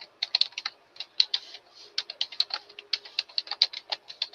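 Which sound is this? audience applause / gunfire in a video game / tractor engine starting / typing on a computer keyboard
typing on a computer keyboard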